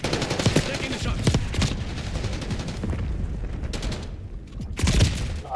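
Dense, continuous automatic gunfire and sharp shots from a Call of Duty: Black Ops 6 multiplayer match, close and loud with brief dips, and a strong burst near the end.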